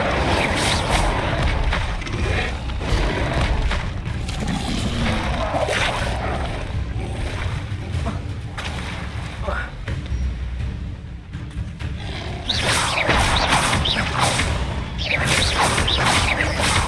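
The Incendio fire spell is cast in Hogwarts Legacy, giving whooshing bursts and booming crackles amid busy mechanical game effects that run throughout at fairly high volume.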